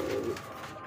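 Red checker racing pigeons coo in a short, soft burst close by, the low throaty call fading after a moment.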